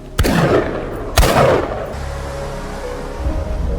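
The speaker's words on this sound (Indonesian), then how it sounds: "Tembakan Peter sepertinya mengenai sosok misterius yang kini mengeluarkan darah" Two sharp gunshots crack out about a second apart, each followed by a brief echoing tail, then a low hum lingers.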